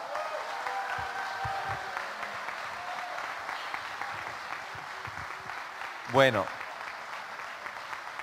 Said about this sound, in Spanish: un muy pero muy merecido aplauso de verdad para todos ustedes